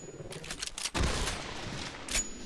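Rapid gunfire from weapons in the shooter game Doom II, a dense burst of shots and booms over game ambience, loud and close with a brief pause near the middle.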